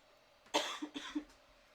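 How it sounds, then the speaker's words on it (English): A person coughs several times in quick succession, a sharp loud burst followed by two or three shorter hacking coughs, close to the microphone in a quiet room. "Forgive me for the coughing, people."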